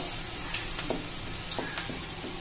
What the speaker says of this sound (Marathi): हे बघा लसूण परततोय